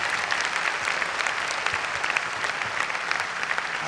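An audience at a Hindi kavi sammelan poetry recital claps steadily and densely throughout, a full, even wash of applause with no voices on top.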